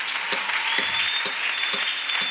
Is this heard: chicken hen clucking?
no